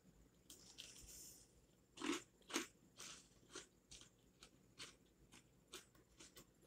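Crisp crunching bites and chewing of KFC Hot & Spicy fried chicken wings, close to the mic, in an irregular series of sharp crackly bursts.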